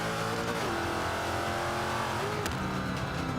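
A Range Rover engine revs steadily in Forza 5 on the Indy GP circuit, its drone rising and falling through gear changes, loud and continuous with no talk.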